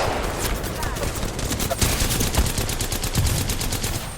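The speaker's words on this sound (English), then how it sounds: "the enemies are shooting" Rapid bursts of gunfire from enemies in a battle royale video game's final-ring fight, dense and continuous with repeated automatic fire throughout.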